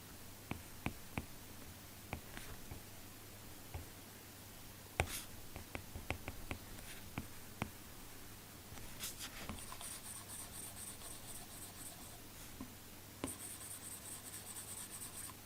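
Stylus strokes scratching across an iPad fitted with a paper-like screen protector, a steady run of soft rubbing and tapping with brief pauses, close and alone.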